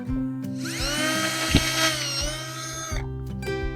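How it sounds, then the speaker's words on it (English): A power drill bores a hole through the lid of a Nutella nut spread jar, a steady loud whine running about three seconds with brief stops and restarts at either end. "And you can very easily just put a hole through there."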